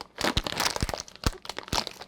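A plastic bag of butterscotch chips being handled in a home kitchen, giving sharp, close crinkles and crunches in quick irregular bursts, with no voice over them.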